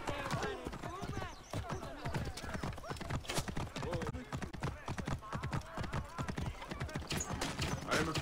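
Horse hooves clip-clop steadily in Assassin's Creed Origins, a rhythmic run of close, loud hoofbeats from a mount in ancient Egypt, heard under game voices and talk throughout.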